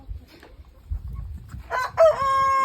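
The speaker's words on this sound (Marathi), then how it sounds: "कोंबड्यासुद्धा बघू शकतो मी एकदम भयानक आहेत कोंबड्या" Chickens cluck and squawk nearby, then a rooster lets out a loud, sustained crow that fills the final second.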